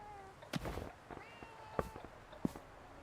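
A cat meowing in the background at a chicken house, a few faint, brief calls spaced about a second apart amid quiet rustling and footsteps.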